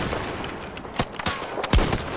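Gunfire in Battlefield 2042 crackles in a short, fairly faint burst of scattered shots, some distant, with a louder crack near the end.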